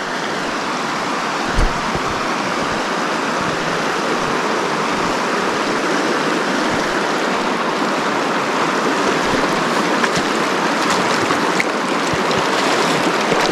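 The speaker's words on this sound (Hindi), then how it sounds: "और ये है बर्फीली रिवर, बर्फ का पानी कह सकते हैं पूरे का पूरा है।" An icy snowmelt river in Yumthang Valley, North Sikkim, rushes in a dense, steady roar of churning water, loud and close throughout with no voices.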